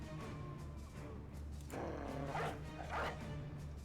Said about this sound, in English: A new, not scared dog.